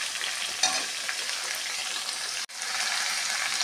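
Potato, eggplant and pumpkin fry in a pan with a steady, close crackling sizzle that runs throughout, broken by one brief gap near the end; no voices are heard.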